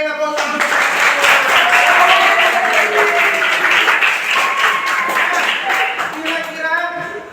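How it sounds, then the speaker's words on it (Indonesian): Sustained audience applause at an Indonesian youth talk, a dense wash of many hands clapping loudly and steadily throughout, with a few voices and cheers mixed in and fading slightly at the end. "Oke, tepuk tangan."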